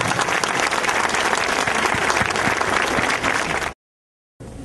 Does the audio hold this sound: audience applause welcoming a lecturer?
yes